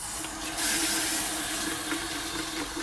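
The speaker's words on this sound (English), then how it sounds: "You stirring that around while the water fills up." Tap water running steadily into a container while lemonade is being made, a continuous close hiss and splash without pauses or talk.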